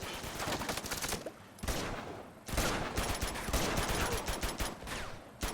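AK-47 gunfire in the video game Uncharted 2, dense sustained bursts of automatic fire with brief gaps between volleys, loud and close.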